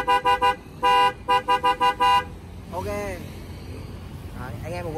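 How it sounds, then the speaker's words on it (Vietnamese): Denso 12V snail horns on a 2023 Suzuki Carry truck sound a quick series of loud, near toots. Several short blasts alternate with a couple of longer ones before stopping, and voices follow. "giờ mình sẽ bóp cho các bạn nghe tiếng còi nhá"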